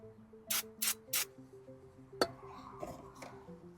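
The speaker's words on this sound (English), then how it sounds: "Final spray." Three short hisses of brake parts cleaner sprayed onto front brake hardware of a 2011-2015 Chevy Cruze, close and sharp, followed by a clink of metal and some fainter handling noise.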